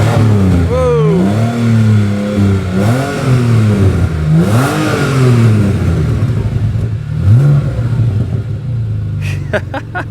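Avalanche GT custom build on a Porsche 911/996 base, its flat-six engine revving repeatedly in loud, close rising and falling surges, with a voice speaking briefly over it.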